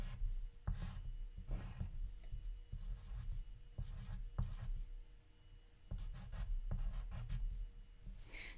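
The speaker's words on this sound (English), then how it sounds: "I'll just draw a quick thing." A pen or pencil scratches quickly across paper for a fast sketch, coming in short rasping strokes with brief pauses and light taps between them, close and fairly quiet.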